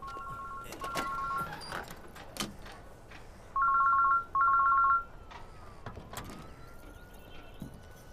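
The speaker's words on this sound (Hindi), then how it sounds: "घंटी जा रही है भाई।" A mobile ringtone chirps in short repeated electronic bursts, faint at first then louder, amid quiet background noise and occasional clatter.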